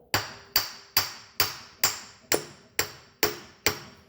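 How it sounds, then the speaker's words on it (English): Nine evenly spaced metallic hammer taps, sharp and close, each ringing briefly before the next in a steady rhythm, as a CV joint on a 2006 Subaru Outback is tapped into place. "lightly tap the nose of the CV joint into place until it bottoms out"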